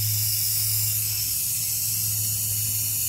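Loud, steady hiss of a pressurized water spray rinsing a car wheel after degreaser, a continuous close jet with a low mechanical hum underneath and no talk.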